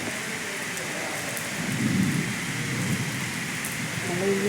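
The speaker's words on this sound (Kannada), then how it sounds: "ಮಳೆ ಇನ್ನೂ ಜೋರಾಗುತ್ತೆ ನೋಡಿ." Heavy rain pours steadily in Chintamani during a storm, a dense continuous hiss that swells slightly louder midway and again near the end, with a faint low rumble of thunder underneath.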